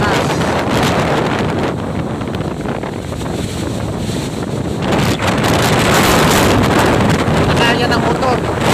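Strong gale wind with no rain battering the microphone near the sea, with boat engines struggling against it, a loud continuous roar and buffeting with surf-like rushing throughout.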